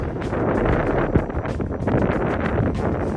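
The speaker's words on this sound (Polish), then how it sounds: "O, wieje wiatr." Steady wind buffeting the microphone, a continuous broadband rush with gusty surges throughout.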